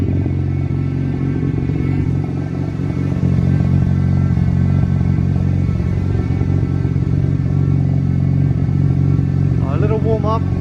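A Mazda RX-7 FD rotary engine idles while warming up after a rebuild, a steady loud drone close by with a small rise late on, and a voice speaking over it.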